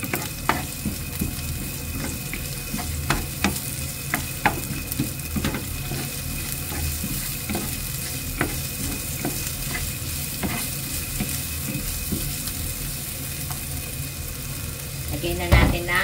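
Onion fries in a pan for bihon guisado, a close, constant sizzle broken by frequent sharp scrapes and clicks of a spatula as it is stirred, and a louder clatter right at the end.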